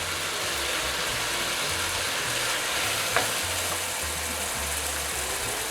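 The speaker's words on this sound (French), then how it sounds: "Allez, on va bien faire revenir la viande avec les légumes" Ground beef browning in a pan with vegetables and freshly cut basil, giving a steady, even sizzle that holds at an unchanging level from start to finish, with no voices.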